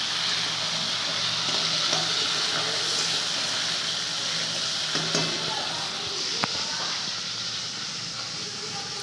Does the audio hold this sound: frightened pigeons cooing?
no